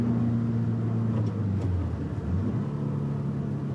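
Toyota car engine braking in fourth gear, a steady low drone with a hum that drops slightly in pitch as the car slows, continuous and moderately loud, with no voices.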